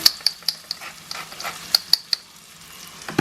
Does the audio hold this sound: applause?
no